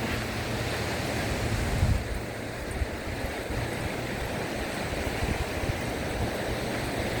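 Sea waves wash steadily onto a beach beside a golf course, a continuous broadband surf roar with some wind noise across the microphone and no talking.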